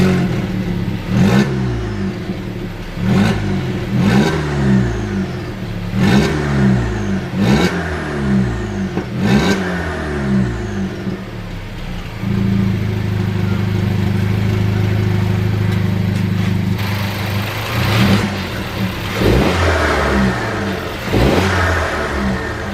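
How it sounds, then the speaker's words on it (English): A VW Jetta with a 1.4 TSI engine and CTS downpipe revs repeatedly at close range, with several sharp rising blips, then settles into a steady idle before another rise. "I'll give a few revs here."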